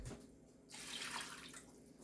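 Water is poured into a warming crock pot for turkey noodle soup, a bright steady splash that starts partway through and runs for about a second before easing off, faint and close with no talking.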